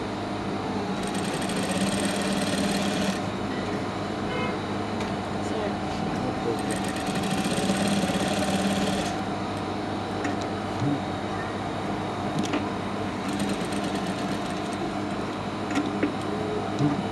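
A sewing machine stitches a shirt placket, running in bursts with a steady mechanical whir and rapid needle ticking up close, pausing and restarting several times over a constant background hum.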